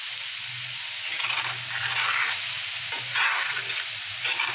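Ash gourd bhaji with dried fish sizzles steadily in hot oil while a spatula stirs it in slow, scraping bursts, a close, continuous frying hiss with rhythmic stirring swells.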